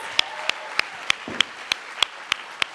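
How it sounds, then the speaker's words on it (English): An audience at a live music concert claps in a steady, evenly spaced rhythm, sharp claps standing out over a soft wash of crowd noise, moderately distant. "Let's give them another round of applause."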